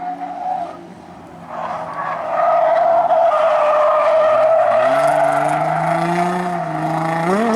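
A car drifts on a track with tires skidding and squealing loudly nearby, the engine revving hard underneath as the sliding sound swells and holds for several seconds.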